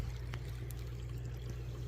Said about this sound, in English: this creek has water coming out of it